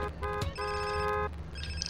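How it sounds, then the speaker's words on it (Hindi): A mobile phone ringtone from GTA San Andreas plays as a clear repeating melodic ring, two bursts of bright tones in quick succession, loud and alone with faint game background underneath. "अच्छा फोन आ रहा"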